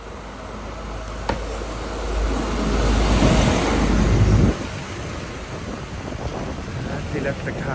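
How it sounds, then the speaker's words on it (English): Cars and buses roll past on a busy street in Medjugorje during rainy high season, a broad wash of tyre and engine noise swelling to a nearby pass around the middle before easing off, with talk over it. "Let the cars pass by."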